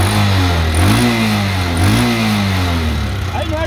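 A Honda Storm 125 motorcycle engine revs up and settles twice in a row, its pitch rising and falling, loud and close with steady mechanical rumble throughout and a brief voice near the end.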